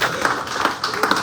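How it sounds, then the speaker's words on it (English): A short burst of scattered hand clapping, a round of applause at a family service, sounds close and uneven, with a few distinct claps standing out. "What about a round of applause?"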